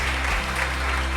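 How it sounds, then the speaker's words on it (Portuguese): Church congregation applauding during a worship service, a dense, steady wash of many hands clapping close by that lasts the whole brief moment with no pause. "Dá uma salva de palmas."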